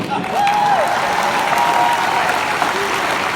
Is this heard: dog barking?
no